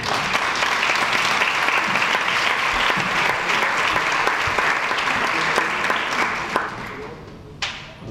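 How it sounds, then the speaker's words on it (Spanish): Loud, sustained applause from a gala audience fills the hall, dense steady clapping continuing for several seconds before tapering off near the end. "Así que un aplauso muy grande para vosotros"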